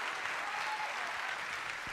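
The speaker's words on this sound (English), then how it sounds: "Look how soft them claps are" Soft, sparse clapping comes from a church congregation during a sermon, a steady, muted patter of many hands spread evenly across the room, with no voices.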